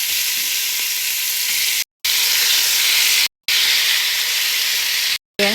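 Onions sautéing in butter for a veal blanquette, a steady bright sizzle and crackle of frying filling the clip, broken by three brief silent gaps.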